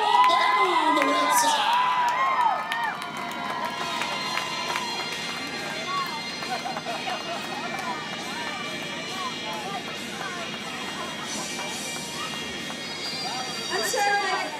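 Crowd cheering and shouting at a team competition in Montgomery, Alabama, a loud, continuous roar of many voices that holds steady throughout, with a whistle-like tone early on and a swell near the end.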